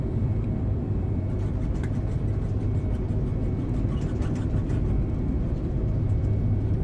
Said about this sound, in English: My runway roll sound up a little bit too much